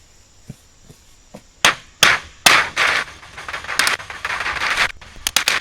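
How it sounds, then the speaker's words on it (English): A mallet strikes repeatedly, driving a deer feeder part into place, sharp knocks at first spaced apart, then quicker, overlapping blows with a scraping, crackling texture nearby. "So your hammer or mallet comes in."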